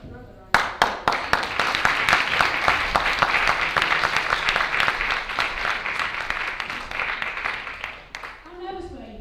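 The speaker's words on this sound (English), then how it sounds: "I think we deserve another round of applause." Audience applause at the Slough Sai Centre 97th birthday celebrations: many hands clapping in a dense, sharp-edged burst that starts suddenly, stays loud and gradually thins, with voices briefly heard as it fades at the end.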